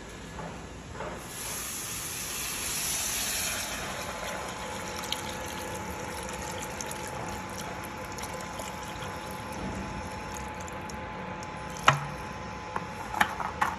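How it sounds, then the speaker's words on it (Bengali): Water is poured into a pan of fish masala that has been frying in oil, a sustained hissing, bubbling sizzle that swells early and then settles into a steady simmer, with a few light clinks near the end. "এবার দিয়ে দেবো জল।"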